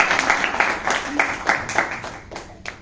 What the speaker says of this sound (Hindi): इसलिए एक बार जोरदार तालियां हो जाती है